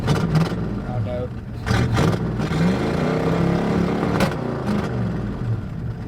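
A junkyard 1966 Ford Mustang V8 rumbles and revs in neutral, its engine loud and close with rising and falling pitch, while voices talk over it.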